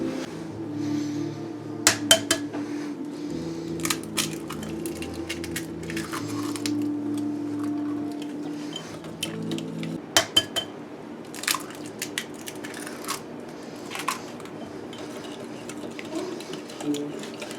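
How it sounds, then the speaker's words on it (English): Eggs whisked into granulated sugar in a bowl, an uneven run of metallic clinks and taps against the bowl, some in quick clusters, over a low background hum. "Now we're going to whisk in 2 eggs,"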